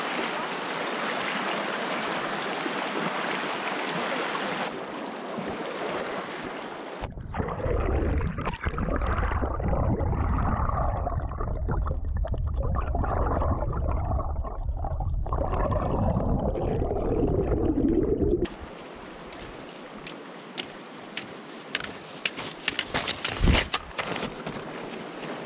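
A river rushes past during a crossing on a tramping track to Hawdon Hut, loud broadband water noise that shifts in tone as the recording moves, with handling bumps and a quieter stretch near the end.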